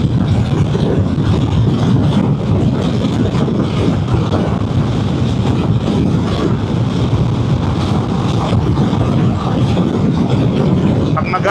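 A Vespa GTS 300 scooter cruising on the highway at around 110 km/h, pushing toward 120: a steady, loud rush of wind buffeting the microphone over a low road and engine rumble, unbroken for the whole stretch with no talk.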